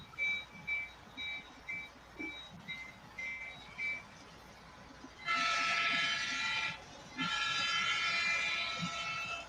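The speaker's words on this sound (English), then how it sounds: "Hear the horn of my train?" A horn sounds on a train, first in a series of short, faint two-tone toots and then in two longer, louder sustained blasts. No one talks over it.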